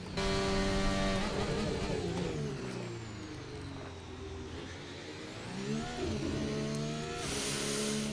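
An F1 race car engine in the F1 25 video game at Bahrain screams continuously, its pitch climbing and falling through gear changes and throttle lifts, loud and close with no talking.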